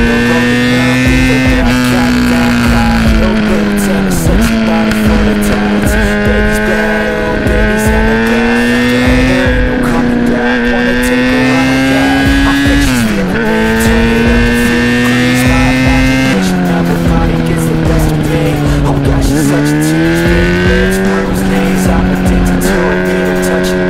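A car pushes hard along a winding mountain road to warm its tyres, the engine loud and close, climbing in pitch through each gear and dropping sharply at every shift, repeated several times.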